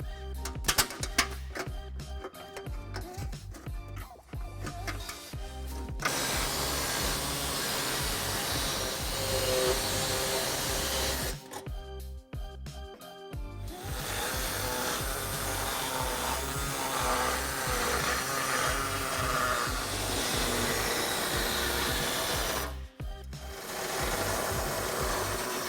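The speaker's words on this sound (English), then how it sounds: "cutting with either an air saw, as I have here" Pneumatic air saw cutting material under a 2014 Kia Optima during a trailer hitch install, loud continuous buzzing in long bursts with brief pauses near 6 and 12 seconds.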